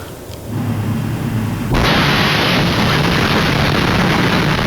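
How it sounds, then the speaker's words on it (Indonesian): A large explosion from an Israeli airstrike hits a shop in the town of Sidikin, southern Lebanon. A sudden loud, sustained roar of broadband blast noise swells in and fills the rest of the clip. "ledakan besar terjadi di sebuah toko di kota Sidikin, Lebanon Selatan"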